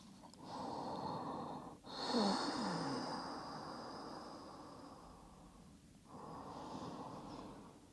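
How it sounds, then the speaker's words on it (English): Deep, strong Ujjayi breathing during a yoga forward fold: slow, audible breaths with a hissing, throat-constricted rasp, close and fairly quiet, a long exhale followed by another drawn breath, with no talking. "Deep, strong Ujjayi breath."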